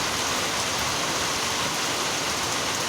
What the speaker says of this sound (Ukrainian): Тільки збирався виїжджати і як дощ періщив